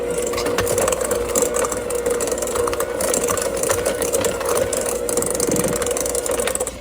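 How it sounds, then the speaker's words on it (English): Electric hand mixer creaming batter for a strawberry sourdough cake: a loud, steady motor whine with a rattling undertone that runs unbroken throughout and stands alone. "I'm just using a hand mixer."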